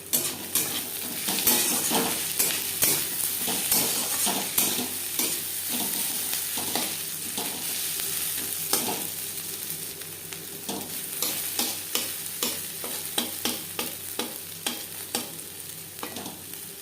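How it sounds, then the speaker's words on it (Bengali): Crushed garlic added to onions already fried several minutes in oil, a loud continuous sizzle with frequent scraping stirs and metal spatula clinks against the pan, no talking. "চার পাঁচ মিনিট পেঁয়াজ ভেজে নেওয়ার পর দিয়ে দিলাম রসুন রসুন আমি থেতো করে নিয়েছি"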